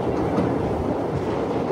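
A train rolls slowly across the old Pamban Bridge on the way to Rameshwaram, a loud, close, continuous rumble of wheels and carriages with faint rhythmic clatter.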